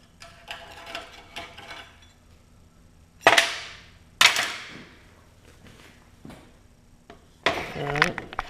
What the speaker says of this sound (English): go ahead and get this sucker notched